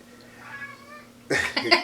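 A cat meows indoors with a faint, wavering call followed by a louder, harsher burst near the end, close and alone.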